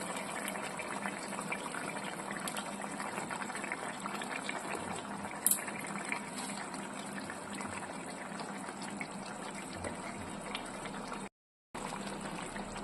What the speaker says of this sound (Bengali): এইবারে আমি ধোকাগুলো এই ঝোলের মধ্যে ছেড়ে দেবো।